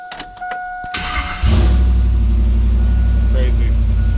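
A slammed GMC Sierra truck with a failing fuel pump clicks and chimes with the key, cranks briefly and fires into a loud, steady idle close by.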